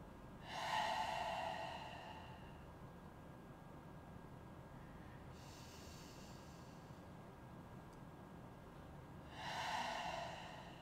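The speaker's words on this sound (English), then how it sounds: "we're going to take 3 deep breaths, inhaling through the nose and exhaling, sighing it out" Three slow, deep breaths during a vinyasa yoga class, each drawn in through the nose and let out as an audible sighing exhale. The breaths are soft, close and breathy, spaced several seconds apart over a quiet background.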